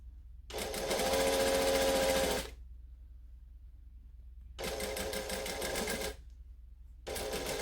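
A sewing machine runs a short seam on a Butterick B6764 garment in three loud, steady bursts of mechanical whirring, separated by quiet pauses.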